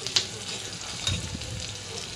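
Chopped onion frying in a pan for Maggi noodles gives off a steady, broad sizzle, with a brief clink or stir at the start and again midway.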